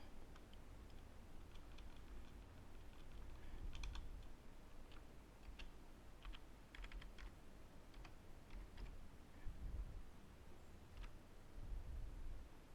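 Typing on a computer keyboard while entering a password during a WordPress setup on Windows Server 2008 R2 IIS: a steady run of soft, close key clicks over faint background hiss, with no talking.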